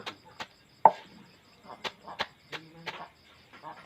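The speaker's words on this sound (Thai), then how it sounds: "พอหั่นเสร็จก็ต้องมาสับ สับสับสับสับสับ" A knife chops a banana stalk into pig feed: sharp, close, separate chopping strikes at an uneven pace, with quieter scraping between them.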